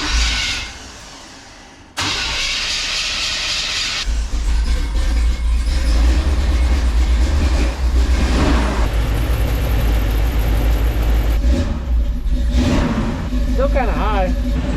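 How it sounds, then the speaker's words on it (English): A Chevrolet squarebody truck engine runs at a high idle, with a suspected vacuum leak and the choke light still on after an idle screw adjustment. After a few seconds of rustling it settles into a loud, steady drone, with someone talking over it. "Still kind of idling high, and the choke light is still on, which is a little unusual."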